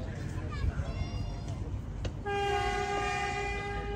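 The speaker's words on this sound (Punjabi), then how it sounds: "ਇਹ ਟ੍ਰੇਨ ਚੱਲਣੀ ਹੈ ਪਾਰਕ ਵਿੱਚ" A toy train in a theme park rumbles past with a steady low roar, then sounds a long, sustained horn blast; people talk over the train noise, and the horn is loud and close.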